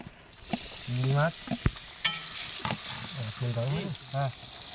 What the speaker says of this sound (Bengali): বাঁধাকপি ভাজা চিংড়ি মাছ দিয়ে